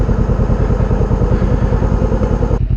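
A motorcycle on a freshly serviced bike with a new Shinko 705 rear tyre idles close by, a steady throbbing rumble with even low pulses that continues alone for nearly three seconds before dropping away at the end.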